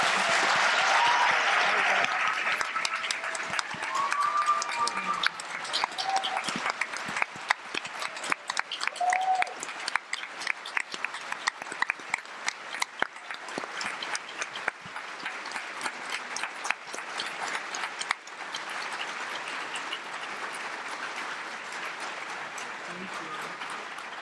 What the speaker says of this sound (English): I would like to just ask everyone to offer another round of applause to our panelists.